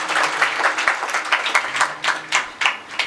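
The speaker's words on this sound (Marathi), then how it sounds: "आपोआपल्या शेजाऱ्याची शपथ आहे सगळ्यासाठी एकदा जोरदार टाळी वाजवा" Loud, enthusiastic clapping from a kirtan audience responding to a call from the stage, a dense rhythmic patter of many hands with distinct surges, sustained for several seconds without speech.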